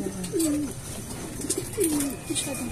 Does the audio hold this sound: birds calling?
yes